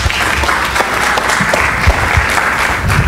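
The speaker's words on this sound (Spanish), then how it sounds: "Así que un aplauso para el doctor Garretón." Audience applauding a doctor at a Kaiser Permanente health conference, steady dense clapping from a crowd throughout, fairly loud and sustained with no talk over it.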